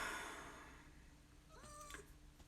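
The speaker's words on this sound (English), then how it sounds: "sorry if you guys heard my cat meow" A house cat gives a short, faint meow, a single rising then falling call heard at a distance over a steady room hum.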